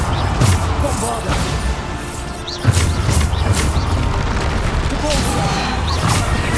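Bombarda blasting spell explosions in the Hogwarts Legacy video game, several sharp booming impacts and crashes amid ongoing combat noise, with a voice speaking briefly.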